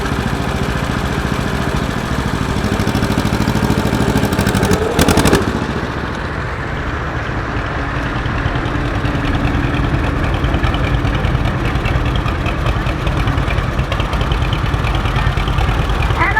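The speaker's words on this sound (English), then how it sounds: "We got a 1941 John Deere LA." A 1941 John Deere LA tractor runs steadily at an antique tractor show in Maryland, a continuous low engine chug with broad noise and a brief louder burst, no talk over it.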